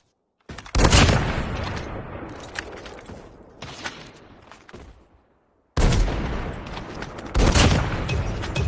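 Loud ZRG rifle fire in a first-person shooter trickshot, heavy booming shots and crackling bursts filling two long stretches separated by a brief silence, with no talking.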